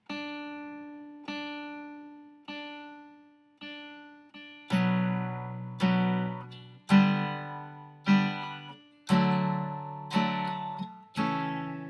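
Guitar chords strummed one at a time, each left to ring and fade, building from softer single strums to fuller, louder ones.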